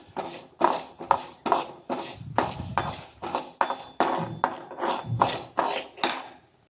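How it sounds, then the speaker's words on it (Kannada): Mustard seeds, with cumin, crackling as they fry in a pan, giving a steady series of sharp pops and ticks that recur in bursts, close by with no talk. "ಸೌಂಡ್ ಬರುತ್ತೆ ಸಾಸಿವೆದು, ಅಲ್ಲಿ ತನಕ ಫ್ರೈ ಮಾಡ್ಕೋಬೇಕು"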